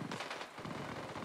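In Ghost Recon Wildlands, gunfire sounds as a brief burst of rapid automatic shots, faint and distant, with no voices.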